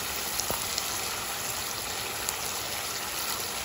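Spice paste frying in a pan gives a steady, dense sizzle that runs close and continuous throughout, with faint small crackles and no talking.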